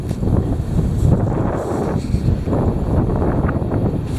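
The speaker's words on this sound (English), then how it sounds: "The heavy wind." Heavy wind buffets the microphone in a continuous low rumbling roar with gusty swells, loud and close, with no voices.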